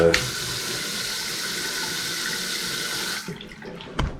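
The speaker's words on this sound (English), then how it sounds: "fascinated with this stupid faucet" Water streams steadily from a tap for about three seconds, then shuts off, leaving a short splash and drip afterward.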